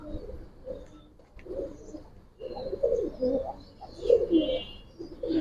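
Giribaz pigeons, Bagha and Silver types, coo in soft, repeated bursts close by, swelling and fading in a loose rhythm with no talk over them.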